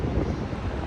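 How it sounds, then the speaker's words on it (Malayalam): Wind blusters across an open microphone outdoors on a sunny day, a steady low rumble of buffeting that fills the whole brief moment without any voices. "കാറ്റ് വന്നിട്ടില്ലേ, മുടി പാറുന്നു."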